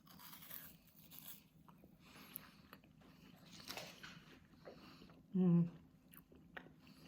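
Quiet crunching and chewing of a frozen tangerine yogurt bar close up, soft crackles and bites spread out, with a short humming tone near the end.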